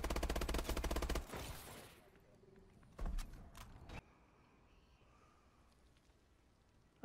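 Automatic gunfire from a futuristic military shooter game, Call of Duty Advanced Warfare: a loud sustained burst of rapid shots for about a second, then a second shorter burst, fading into quiet background ambience.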